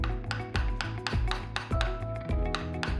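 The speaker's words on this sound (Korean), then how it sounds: "기계를 사용하지 않고 오롯이 손의 힘으로만 나무를 깎고 다듬는 작업" Wooden mallet striking a hand chisel while carving a wooden chair seat by hand outdoors in a school forest, with repeated sharp knocks roughly every half second over steady rasping, close and fairly loud, with no talking.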